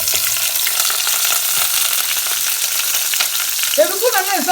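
Onions and tomato fry in oil in a pot, giving a steady close sizzle and crackle while being stirred, with a short burst of scraping near the end.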